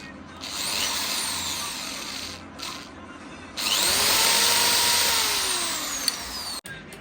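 A power drill whirs steadily as it tightens nuts, running in two long bursts separated by a short pause, loud and close, with a sharp clack near the end.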